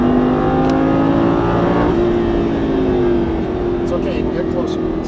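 A sports car on a race track in Las Vegas accelerating at full throttle, the engine roaring loud and steady throughout with a slowly rising pitch, while a voice talks over it.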